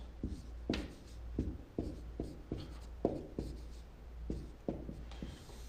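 Algebra is written out on a board in a steady series of distinct scratchy strokes and taps, close and moderately loud, with no talking.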